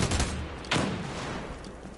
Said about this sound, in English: Tossing frag.